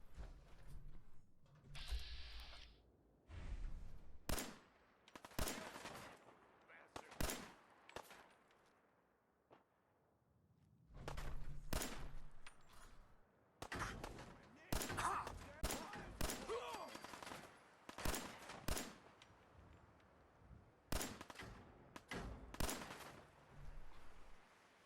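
Gunfire from a 10mm pistol in the video game Fallout 4, with sharp shots coming in irregular bursts across the clip. Quieter stretches fall between the volleys, and some speech can be heard mixed in at a low level.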